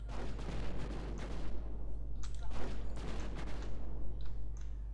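Rapid bursts of homing missile fire and explosions in the video game Project Eden, loud repeated blasts in clusters with brief gaps, set against a steady low hum.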